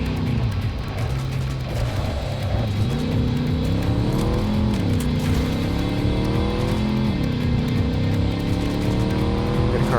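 Race car engine droning steadily through a race, its pitch rising and dipping through gear changes and corners, loud and continuous from the car's own viewpoint with no letup.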